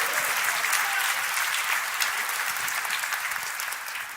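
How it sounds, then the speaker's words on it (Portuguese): A church congregation bursts into steady applause, a dense wash of clapping that holds strong and fades slightly toward the end, with no voices over it. "Você pode dar uma salva de palmas?"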